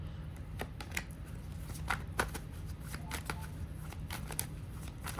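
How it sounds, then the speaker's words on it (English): A deck of cards is shuffled repeatedly in quick, crisp riffling bursts, soft and close, with no talking. "I'm going to shuffle this and just leave this here so I ain't got to do it again."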